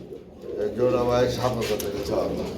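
Domestic pigeons, breeding pairs with eggs and chicks, coo at a market sale of pigeons, giving a steady overlapping murmur of low throaty coos close by, swelling after the first half second, with voices talking faintly underneath.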